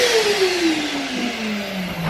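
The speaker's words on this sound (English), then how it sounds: "I am hoovering all the mess up that I've caused." A vacuum cleaner hoovers up renovation debris indoors, a loud close motor whine whose pitch slowly falls as the load changes, running continuously with no speech.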